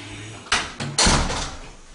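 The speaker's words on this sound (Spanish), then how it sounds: "Vamos a cerrar la puerta." An interior door of a holiday apartment hallway in Almuñécar swings shut, giving a close, solid knock and then a louder latching thud, with a brief rattle trailing off afterward and no talk.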